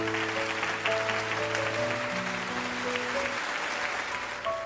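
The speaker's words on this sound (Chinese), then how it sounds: "我们再次用掌声向他们致敬" A studio audience at a television show applauds steadily and warmly for several seconds, with soft music sustained underneath.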